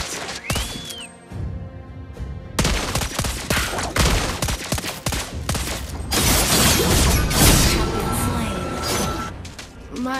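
Rapid bursts of rifle gunfire from a marksman hero in the mobile game Mobile Legends, dense and loud amid game effects and clashes, with a brief game voice early on.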